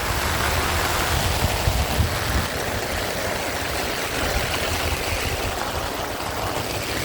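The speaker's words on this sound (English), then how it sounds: "It is raining. The place is flooded." Heavy rain pours down on a flooded spot in the British Virgin Islands, a continuous loud rushing hiss with deep rumbling water that carries on unbroken throughout.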